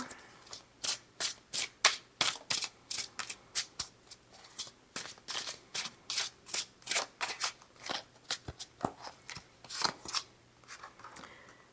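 Tarot cards are shuffled close up in a long run of crisp riffling and slapping strokes, each burst distinct and evenly paced, with no talking.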